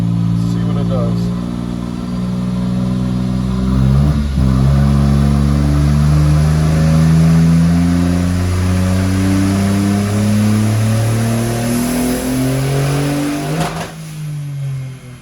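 A tuned Smart ForTwo running its stock engine with added boost and timing revs hard on a dyno, a loud sustained climbing drone with a brief dip partway through before winding down at the end.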